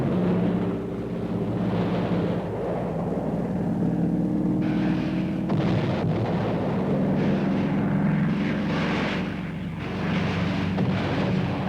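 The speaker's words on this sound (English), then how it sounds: "these planes are now ranging far and wide over North Korean territory" Military fighter planes over North Korean territory, a continuous roaring engine drone with a few sharper surges, steady and fairly loud with no talking.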